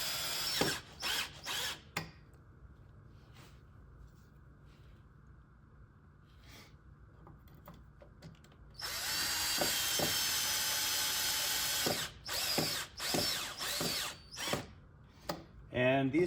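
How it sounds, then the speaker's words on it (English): A power drill fitted with a flexible extension drives screws into the door jamb of a vintage trailer, whirring in short bursts and then one long sustained run, with brief ratcheting pauses between. "I can hold this and drill this. So we're gonna just quick put these screws in."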